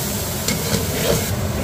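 Ginger garlic paste fries in a pan, giving a steady close sizzle with faint stirring scrapes throughout.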